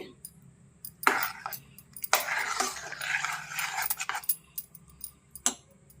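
Salt being stirred into hot pongal in a cooking pot, with intermittent scraping and clattering bursts of a utensil against the pot, some longer and some brief, close by and without speech.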